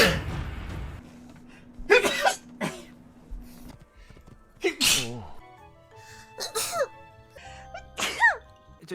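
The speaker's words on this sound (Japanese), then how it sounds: "くしゃみ出そう。" Several sneezes burst out in sharp, loud bursts spread across the stretch, each followed by a brief pause, with someone speaking and reacting in between.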